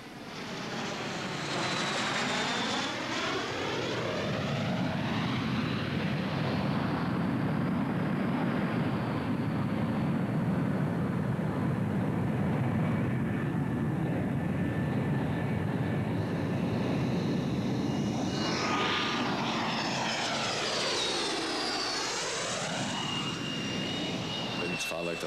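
A plane engine roars loudly and continuously as the aircraft comes in to land at Goose Bay in 1986, its whine rising and sweeping in pitch near the start and again near the end, with someone speaking over it.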